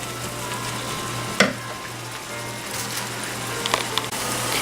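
Steady, crackling sizzle of ground beef frying in a pan for tacos, with a sharp clink partway through and a low hum underneath; no talking.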